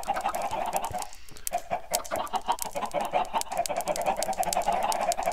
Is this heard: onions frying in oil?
no